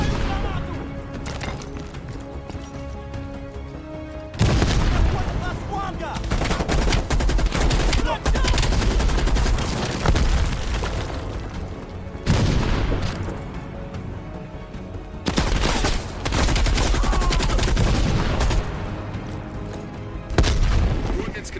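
Machine gun bursts and heavy explosions from a Call of Duty Black Ops Cold War battle, loud and dense, with repeated booming blasts over sustained rattling fire and a voice talking in the mix.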